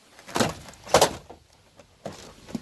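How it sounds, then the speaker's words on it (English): A door panel on a 2003 Chevrolet Suburban is lifted off the door, giving a few sharp plastic knocks and rattles at close range, separated by brief pauses. "Now all you gotta do is lift the door panel straight up."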